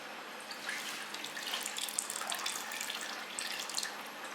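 Hot water streams steadily into a saucepan in a home kitchen, a soft continuous splashing and trickle heard up close without any talk.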